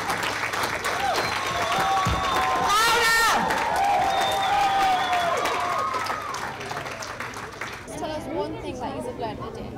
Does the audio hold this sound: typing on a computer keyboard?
no